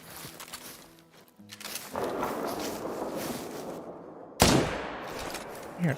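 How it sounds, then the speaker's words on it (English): Gunfire crackles in a hunting video game set in the Yukon, with scattered shots followed by a sharp, loud blast near the end over ambient outdoor sound, no voices. "I heard a lot of gunshots."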